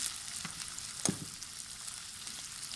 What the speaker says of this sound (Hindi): आलू को थोड़ा सा हम पका लेंगे।